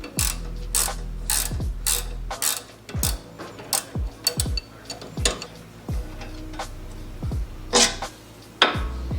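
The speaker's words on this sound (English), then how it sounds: "to do that I'm using my breaker bar with my 17mm socket" A breaker bar with a 17mm socket works the sway bar link nut on a third-generation Toyota Tacoma, giving rapid metallic ratchet clicks in repeated bursts with clanks of tool on metal, close and without talk.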